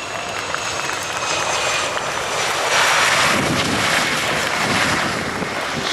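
A US Navy F/A-18 Super Hornet jet, built in 2015, flies a solo display at RIAT Fairford: a steady, loud broadband roar with wind buffeting that swells slightly midway, heard alone without speech.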